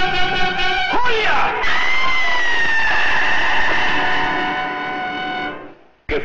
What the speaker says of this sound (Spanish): ¡Ella fue la que gritó!